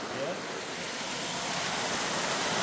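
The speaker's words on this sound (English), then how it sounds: "Right in the waterfall." A waterfall near Branson, Missouri, heard as a steady, loud, close rush of falling water with no pauses.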